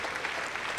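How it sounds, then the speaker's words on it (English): Audience applause in a church gathering, a brief wash of steady, evenly spread clapping from many hands at moderate volume. "hold your applause until we get through it all"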